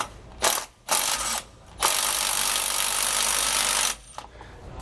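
A ratchet wrench tightening U-bolts on a Roadmaster Reflex steering stabilizer during installation on a 2020 Thor Miramar motorhome, heard as short bursts of rapid clicking followed by a long sustained ratcheting run, close and loud with no talk.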